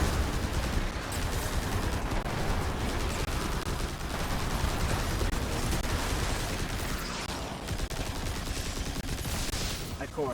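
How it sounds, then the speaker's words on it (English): Sustained machine gun fire from a video game, a dense, loud, unbroken roar of rapid shots that blurs into continuous noise with rumbling battle sounds underneath. "I'm gonna use my machine gun."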